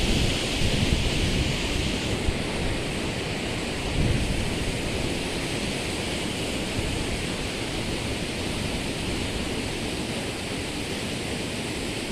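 Steady heavy rain on a wet day beside a swollen stream, a dense constant roar of rainfall and rushing water with a low rumble of thunder underneath.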